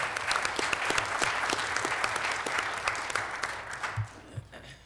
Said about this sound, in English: let's give a round of applause to our mayor for the fantastic job he's been doing for our city